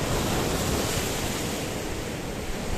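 Rough sea waves at Paphos harbour, a continuous loud roar of surf and wind buffeting the microphone, with no voices.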